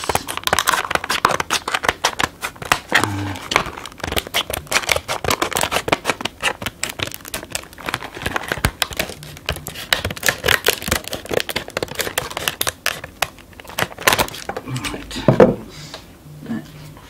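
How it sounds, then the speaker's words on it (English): Scissors snipping and tearing through plastic wrap on the box of a budget game controller, a dense run of close crinkling, rustling and scraping bursts with brief quieter gaps and a few sharper knocks near the end. "I'll get a pair of scissors and we'll just try and cut this as best we can"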